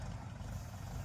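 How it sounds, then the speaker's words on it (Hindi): Low, steady rumble of a tractor engine running continuously on a tomato farm, a heavy idling drone with no break. "हमारे दोस्त जा रहे हैं उधर ट्रैक्टर लेके"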